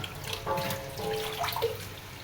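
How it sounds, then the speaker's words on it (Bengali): Shing fish are rinsed in water to wash out sand, a short stretch of gentle splashing and running water close by. "আসলে প্রচুর বালি থাকে, তাই 4-5 বার করে ধুয়ে নিলাম"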